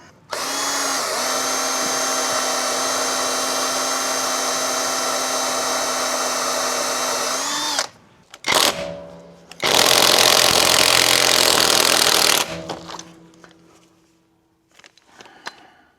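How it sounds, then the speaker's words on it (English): A drill bit bores into the shoulder of a stuck lug nut, making a loud, steady high whine for several seconds. After a brief stop comes a second harsh grinding burst, then scattered clanks as the work goes quiet. "drilling down one of the shoulders here with drill bits and hoping to maybe split that lug nut"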